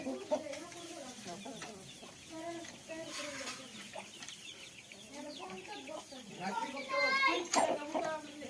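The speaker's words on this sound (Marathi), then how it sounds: "हा फायटर कोंबडा आहे" A fighter rooster clucks in short repeated bursts nearby, mixed with people talking, including a voice.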